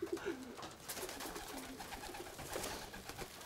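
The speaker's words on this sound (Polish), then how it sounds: "Gołąbie mają bardzo wspaniałą orientalność, jak lecą." Pigeons coo softly in low repeated murmurs, faint and somewhat distant amid rustling background noise.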